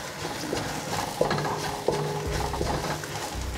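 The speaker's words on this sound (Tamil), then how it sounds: "இதை நல்லா மிக்ஸ் பண்ணிவிட்டு" A spoon stirs a spiced chicken fried rice mixture of fennel, cumin and chili powder in a pan, scraping and clinking softly in a few strokes over a faint background sizzle, with no talking.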